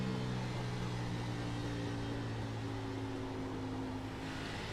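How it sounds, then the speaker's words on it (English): Race car tires sliding through turns one and two during a NASCAR Xfinity race at Auto Club, heard as a steady, dense engine roar with a sustained low hum and no pauses or voices. "it sounds like a tire is sliding a little bit"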